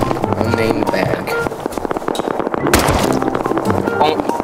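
Gunshots ring out in a video game as a rapid, dense stream of sharp cracks and pops, loud and close, with voices talking over them.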